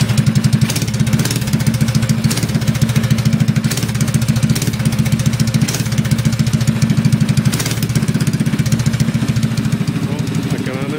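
A Honda clone small engine runs steadily after a cold start, sounding slightly over-choked, with a loud, continuous low chugging drone and fast rhythmic firing throughout.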